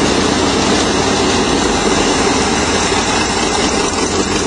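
Steady, continuous van engine idle rumbling evenly at close range, loud and unbroken, with no voices.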